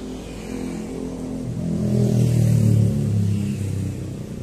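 Old car engine running on a city street, a low rumble that swells and revs up toward the middle and then settles, fairly near, with no voices.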